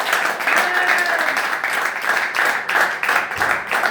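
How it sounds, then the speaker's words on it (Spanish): Church congregation giving a loud round of applause, thick clapping from many people with faint voices or cheering mixed in, swelling and dipping in waves. "¿Cuánto le dan un fuerte aplauso al Señor?"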